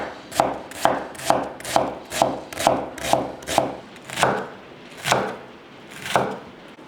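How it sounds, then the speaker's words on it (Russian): A knife chops through onions on a board in crisp, evenly spaced strikes, about eleven in all, quick at first and slowing toward the end, close and clear with no talk. "Сейчас мы нарежем лук."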